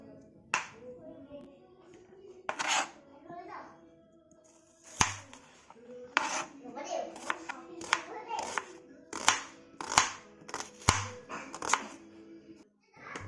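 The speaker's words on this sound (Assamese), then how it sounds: "মাংসখিনিৰ কাৰণে প্ৰথমতে মই এতিয়া পিঁয়াজখিনি পাতলা পাতলাকৈ কাটি লৈছোঁ।" Thin slicing of onions with a knife on a cutting board while preparing a traditional Assamese meat and banana-flower dish: a series of crisp, close chopping taps, sparse at first and then faster and more regular.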